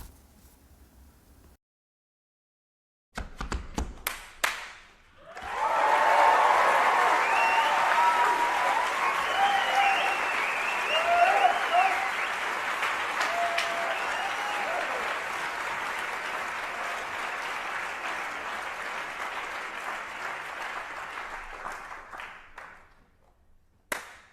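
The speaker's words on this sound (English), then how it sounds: "how the performers try to change the audience to clap twice in their performance" Audience clapping during a live performance: a few isolated claps and a pause, then dense, sustained applause building up and holding steady before tapering off, with faint voices mixed in.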